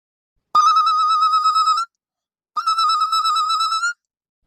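A phone ringtone plays two electronic ring bursts, each about a second long, separated by a short silence.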